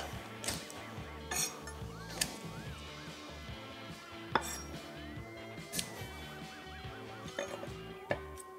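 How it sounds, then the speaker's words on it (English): Garlic cloves are crushed with a knife on a cutting board while making Haitian pikliz, giving several sharp knocks and thumps spread irregularly over the stretch. "Take the garlic cloves, smash those up"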